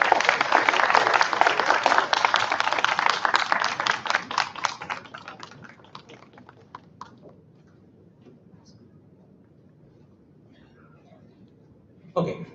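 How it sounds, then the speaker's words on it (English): Applause from students and guests at a graduation ceremony in Tokyo, dense clapping for several seconds that thins out and fades to near silence, followed by a brief sound at the end. "let us give a round of applause to your beloved parents for their support"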